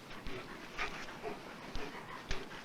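A dog pants in quick, breathy bursts during a walk, the rough huffs coming in irregular clusters at low volume with no talking.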